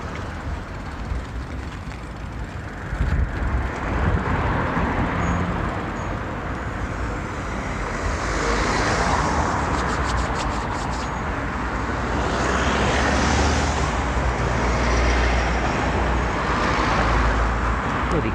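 Road traffic rushing past a cyclist on a bike ride, a steady loud roar of passing vehicles with wind noise that builds and stays heavy throughout, no talking.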